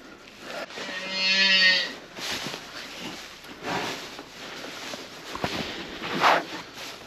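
A cow in labour during an emergency calf delivery lets out one loud, drawn-out moo near the start, followed by quieter rustling and movement, with a brief sharp noise later on.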